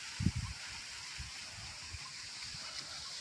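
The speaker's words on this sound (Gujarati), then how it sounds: "અત્યારે પાણી હાલે છે." Water flowing through field channels toward a mango tree, heard as a steady broadband rushing that stays constant throughout. A few low bumps occur near the start.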